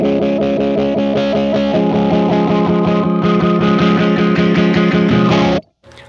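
Electric guitar strummed on one chord through a JAX 8TR fuzz wah pedal, with a slow filter sweep from heel to toe, loud and fuzzy with a repeated rhythmic pulse, cutting off abruptly at the end.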